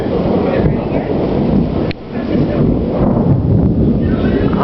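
Thunderstorm in Costa Mesa, with a loud, continuous roar of rain and rumbling thunder close by, buffeted by wind noise on the microphone while people talk excitedly over it.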